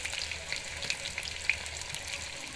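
Potatoes sizzle steadily in hot oil in a pan over a smoky clay stove, cooked for a rich winter desi chicken dish. The crackle is close, even and continuous, with no voices.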